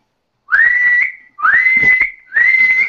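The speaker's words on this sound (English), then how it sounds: "Why are you whistling?" Three loud, shrill whistle blasts, each roughly half a second long with brief gaps between them, signal a foul in a role-played football match; they stand alone with no talk.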